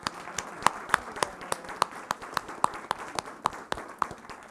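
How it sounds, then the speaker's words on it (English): Audience applause at a National Girls & Women in Sports Day event, a modest scattering of sharp individual claps in an uneven rhythm, fairly faint and close. "So how about a really large round of applause?"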